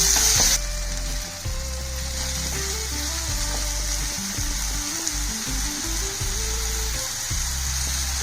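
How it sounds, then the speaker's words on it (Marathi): A smoky eggplant bharit with tomato and spices sautés in an iron kadhai, a soft steady sizzle with intermittent scrapes and knocks of stirring, close and without talk. "यामध्ये लाल तिखट आणि घरगुती तिखट टाकून हे छान परतून घ्यायचं आहे"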